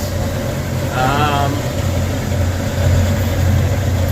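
A tractor and hay baler run in a hay field, giving a steady low engine drone that stays loud and even throughout, with a brief warbling tone in the middle and talk over it.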